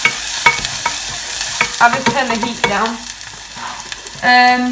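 Rice stirred into onions frying in a pan, a steady sizzle broken by repeated scraping stirs, with a louder hiss toward the end.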